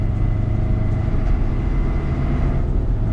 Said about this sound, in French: On repart, accélération.